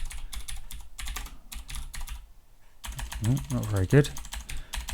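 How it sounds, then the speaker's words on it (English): Quick typing on a computer keyboard, a steady run of close, light key clicks with a short pause in the middle, while a person talks briefly over it. "So I'm just going to type this in very quickly."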